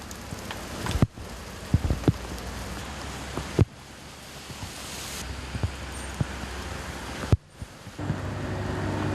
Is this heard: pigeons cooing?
no